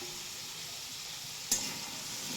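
Cauliflower and green peas sautéing in a pan, a soft even sizzle with a single faint tap of a utensil near the middle and no speech.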